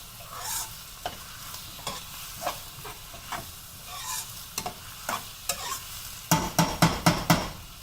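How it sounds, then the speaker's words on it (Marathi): Onion sautéing in a pan gives a soft sizzle under repeated scraping stir strokes. The strokes come at irregular intervals and become quicker and sharper near the end, with no voices. "आणि छानपैकी कांदा ह्याला परतून देते मस्त."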